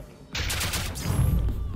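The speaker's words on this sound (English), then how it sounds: "You just shot yourself with a finger gun." A finger-gun shot in a VR combat training game bursts in sharply and carries into a dense, loud, crackling wash of noise with low rumble. It sounds close and fills the whole clip, with no talking.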